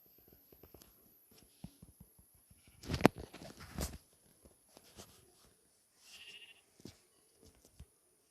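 Sheep bleat outdoors in a short burst of calls at middle distance, among sparse hoof taps and faint footsteps on the ground, with no talk.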